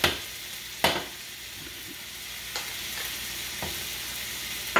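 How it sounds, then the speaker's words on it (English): Onions sizzling with ground beef in a hot pan, a steady close fry broken by a few sharp clacks of a utensil stirring and scraping, with no one talking. "we're gonna go ahead and start throwing these onions in there"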